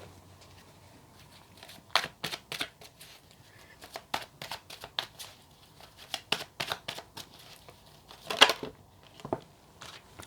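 Tarot cards being shuffled by hand, a series of quick papery riffles and soft slaps in uneven bursts, fairly close and moderately loud with no talking.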